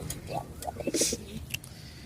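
Male pigeons cooing in a loft, a short series of soft, low, throaty coos heard fairly close, with faint background rustling and a couple of brief sharper noises.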